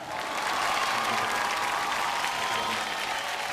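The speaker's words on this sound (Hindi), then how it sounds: "बहुत एक बार जोरदार तालियां फॉर अमिताभ बच्चन" Sustained audience applause at a Bollywood event honoring Amitabh Bachchan, a dense, even wash of many hands clapping throughout, moderately distant and without talk.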